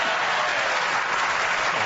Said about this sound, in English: I think you're supposed to applaud now, you idiots.